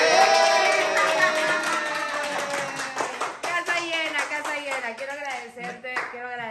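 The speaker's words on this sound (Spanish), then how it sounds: "¡Un aplauso!" Audience applause at a Spanish-language Ecuadorian community show, with clapping fading into lively talk and cheering voices that carry over the last few seconds.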